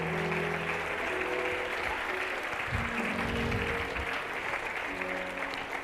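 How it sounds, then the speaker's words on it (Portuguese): Sustained congregation applause in a church service honoring a worship team, a dense steady roar of clapping mixed with a faint held musical tone. "Dê um aplauso ao Senhor Jesus por essa equipe"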